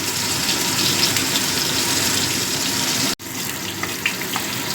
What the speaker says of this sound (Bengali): এইভাবে সব মাছগুলো আমি ভেজে নেব।